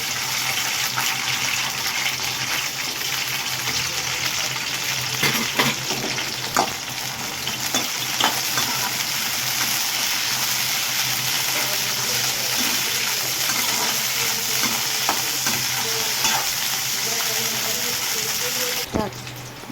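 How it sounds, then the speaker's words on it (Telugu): Green chillies fry in hot oil in a pan with a loud, steady crackling sizzle that goes on without a break. Occasional stirring clicks and scrapes come through close up, and one sharp knock is heard near the end. "ముందుగా మనం పచ్చిమిర్చి అయితే వేయించి చేసుకోవాలి."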